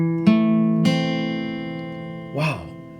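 Guitar playing a minor chord shape on a different string set, two struck chords ringing out and sustaining close and clear, with a brief voice near the end.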